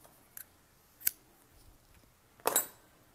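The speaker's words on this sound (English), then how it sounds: "I'm getting my yarn out. Let me snip this." Scissors snip through knitting yarn, giving a couple of quick, crisp cuts up close in an otherwise quiet room.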